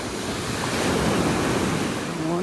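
Gulf of Mexico surf at a North Naples, Florida beach in the morning, waves rolling and breaking in a steady roar with wind buffeting the microphone and no voices.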